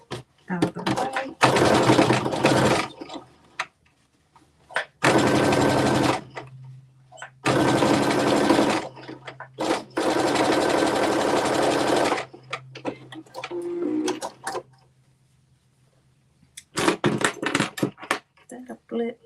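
A sewing machine stitches fabric in several loud bursts of rapid mechanical whirring, separated by short pauses with faint handling noise and a low hum, close by.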